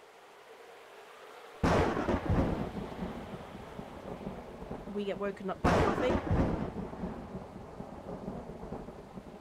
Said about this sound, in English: there is a storm